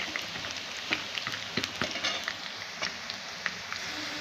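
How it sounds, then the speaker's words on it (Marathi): Peanuts frying in a pan of oil for oats upma, a steady close crackling sizzle with scattered sharper pops and light stirring scrapes, no voices. "शेंगदाणे सुद्धा छान असे तळून घ्यायचे"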